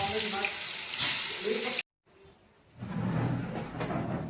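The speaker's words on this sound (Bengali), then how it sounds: "ভালো করে ভেজে নেবে, লাল লাল করে।" Soya chaap chunks frying in hot oil in a kadai, a busy sizzle that cuts out briefly partway, then returns as a softer, steady crackle.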